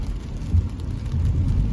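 Steady rain patters on a car while it drives along, under a dense low road rumble and broadband wash with no talking.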